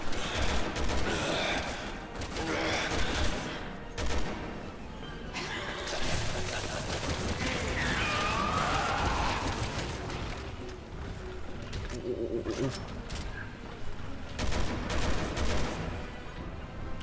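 Rapid, loud bursts of gunfire crackle through a Resident Evil 6 fight, volleys and single shots repeating with short gaps, mixed with mechanical clatter and brief vocal sounds.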